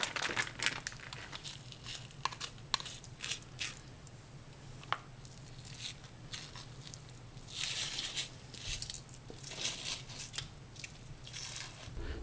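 Raw rack of pork ribs having its membrane peeled off by hand, giving close, soft crinkling, squishing and tearing sounds in irregular bursts over a low steady background hum, with no talking.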